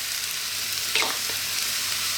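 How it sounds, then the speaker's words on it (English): Mushrooms frying on high heat for vegan mushroom fried rice, a steady hiss of sizzling oil broken by a brief scrape of stirring near the middle. "Simply now we're going to add in our mushrooms."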